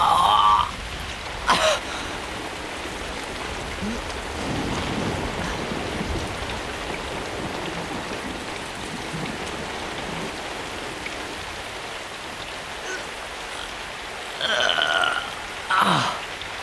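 Steady rain falls in a continuous, even hiss that stays loud for the whole stretch, with brief louder bursts near the start and the end.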